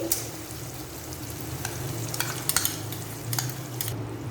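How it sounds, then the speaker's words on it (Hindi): Cream being stirred into chicken jalfrezi in a pan, a steady low sizzle with soft scraping strokes and a few brief clinks of the spoon against the pan near the end. "अब हम क्रीम को करेंगे मिक्स और फ्लेम को मैं ऑफ कर दूँगी।"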